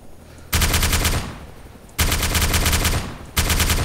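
Three long, loud bursts of rapid automatic machine gun fire come from a vehicle's mounted gunner seat in DayZ, each rattling stream running about a second with short gaps between.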